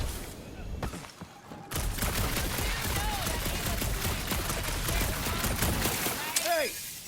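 Sustained rapid gunfire from Guardians of the Galaxy gameplay rattles on for several seconds, dense and continuous after a brief quieter start, with game voices faintly mixed in.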